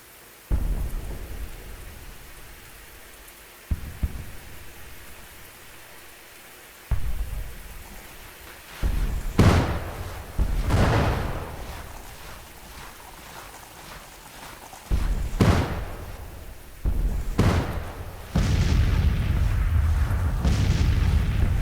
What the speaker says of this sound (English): their artillery is starting to open up on us